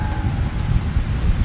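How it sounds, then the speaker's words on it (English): A thunderstorm with heavy rain in the game Aquacreep 3D: dense, steady rainfall hiss over a deep rolling rumble of thunder, continuous and loud for the whole moment, with no voices. "What are you doing out here in a storm like this?"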